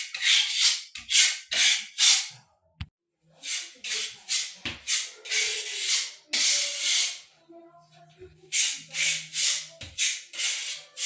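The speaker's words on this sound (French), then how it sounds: "vous avez la team qui est en train de, du coup, déposer l'enduit et lisser l'enduit" Filler plaster being spread and smoothed over a wall full of patched anchor holes during a room renovation, sped up: rapid rhythmic rasping strokes in quick bursts with brief pauses and occasional knocks, no talking.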